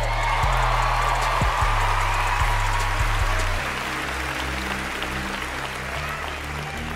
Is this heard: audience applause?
yes